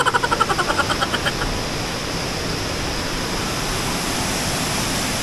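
The Ryu-Jin-No-Taki waterfall in Gifu, a broad steady roar of falling water; a series of rhythmic knocks or footsteps sounds at the start before the constant rush continues alone.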